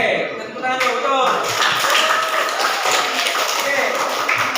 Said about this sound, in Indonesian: kita tepuk tangan dulu, betul